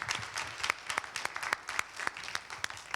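Audience applause for a panel at a social work policy event on homelessness and affordable housing, a steady wash of many hands clapping with sharp individual claps standing out throughout.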